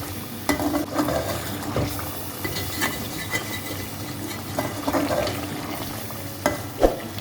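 Onions fry in a pot of mutton degi korma with a soft, low sizzle, broken by irregular scraping and clacking as a spoon stirs them.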